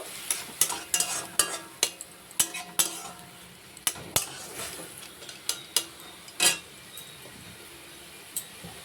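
Masala sautéed in a pan with a splash of water and very little oil for a fish curry: a soft sizzle broken by quick metal clinks and scrapes of a spoon stirring, close by and without talk.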